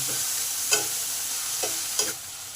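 Potato pieces coated in salt and turmeric fry in a pan with a continuous soft sizzle, while a few quick spatula stirs scrape through.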